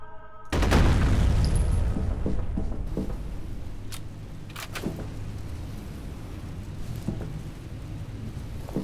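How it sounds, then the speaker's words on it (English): An explosion in the video game F.E.A.R. bursts out as a loud, sudden boom, followed by a long rumbling roar that slowly fades, with scattered sharp crackles of debris. "that's obviously gonna explode"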